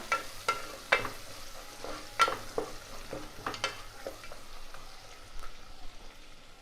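Mint and coriander leaves frying in a pan for plain biryani, with a soft steady sizzle broken by several sharp scraping strokes of a spoon, fairly close and with no voices.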